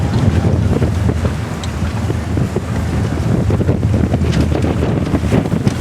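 A 1968 Chris Craft wooden motorboat's engine rumbles steadily through strong wind and choppy lake water noise, sustained and fairly loud throughout.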